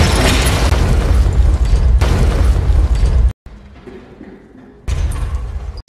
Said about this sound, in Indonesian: Selamat dari ledakan, Mac dan Presiden segera keluar dari sana